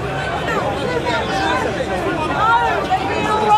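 A protest crowd murmurs and chatters in a dense, close babble, with several voices overlapping throughout.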